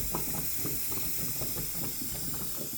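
A central heating boiler with a stuck pump boils and hisses in a steady, fairly loud rush of steam with rough bubbling running throughout, no voices.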